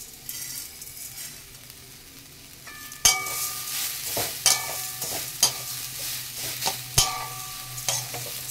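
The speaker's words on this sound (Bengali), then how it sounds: "এখন নাড়তে থাকবো, একটু লাল লাল করে ভেজে নেবো" Grated coconut being stirred and fried in a hot wok while it browns for coconut-peanut barfi, with steady close sizzling and repeated spoon scrapes and clinks against the pan.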